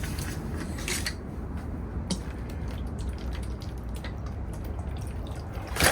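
Water poured from a container into a plastic seed tray of Lapageria seeds, a steady broad splashing rush lasting several seconds with a few sharper drips and clicks, close and fairly loud.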